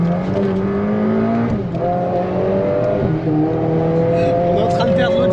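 A Mercedes A45S AMG with a custom-made exhaust accelerates hard, its engine note climbing through several gear changes, loud and close from inside the car, with people talking over it.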